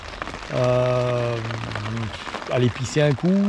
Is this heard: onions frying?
no